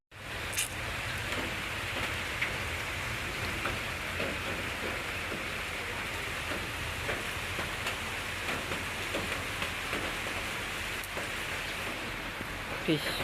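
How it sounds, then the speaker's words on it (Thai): Heavy rain pours steadily with a constant dense hiss and scattered drops striking a surface nearby. "ฝนตกพอแม่พี่น้องเลย"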